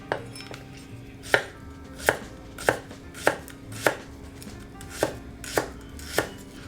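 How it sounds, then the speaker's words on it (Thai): Green onion (Japanese negi) sliced diagonally with a knife on a cutting board, giving about ten crisp, evenly spaced chops with no talking. "หั่นสไลด์เฉียง"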